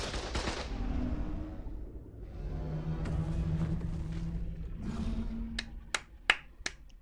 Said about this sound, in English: Turrets are working.